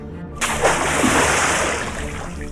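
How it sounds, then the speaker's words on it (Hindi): A lion leaps down into a water well, landing with a sudden loud splash that slaps in and then washes and sloshes on for about two seconds before fading. "उसने कुएं में छलांग लगा दी"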